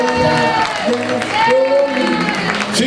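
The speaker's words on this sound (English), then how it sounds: "Let's give another round of applause." A concert crowd at a show cheers and claps in a round of applause, with whoops and voices rising over the clapping and some talk mixed in.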